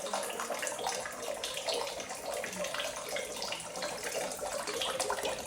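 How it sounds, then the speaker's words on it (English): Water running steadily into a bottle from a fountain on a Malvern Hills walk, a continuous close splashing and hissing stream that carries on without a break, with no talk over it. "I'll finish off what's in the water bottle and fill it up for you."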